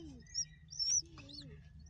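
Faint, high chirps and peeps from young birds come in short bursts, with a soft low cooing underneath.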